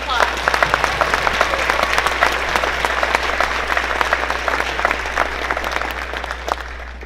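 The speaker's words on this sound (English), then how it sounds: "So let's all give Mr. Boyd a round of applause" An audience claps steadily in a dense, sustained round of applause at a school stage curtain call, holding roughly even in loudness throughout.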